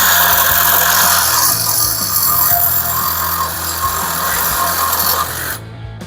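A battery-powered saw cuts loudly and continuously at close range during a Ford 8.8 rear axle build for a Plymouth Duster, a harsh, grinding buzz that eases slightly before stopping abruptly near the end.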